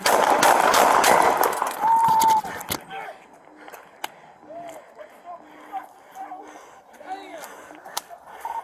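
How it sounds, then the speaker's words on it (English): Police officer's gunshots in a Baltimore street confrontation with a 17-year-old armed suspect: a loud burst of sharp cracks in the first seconds, then quieter scattered sounds and a few isolated bangs. "Shots fired! Shots fired! Shots fired!"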